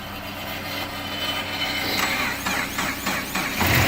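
A Forester's engine idles steadily after a jump start with a mechanical rattle and whine, fairly loud and close, with some clicks and a rising rev near the end.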